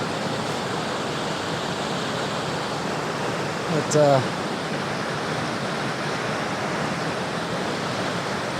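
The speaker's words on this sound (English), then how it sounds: "look over towards the waterfall" West Creek Falls in Rocky Mountain National Park, a steady broad rush of falling water heard from a distance, constant and even throughout, with a brief spoken word briefly over it.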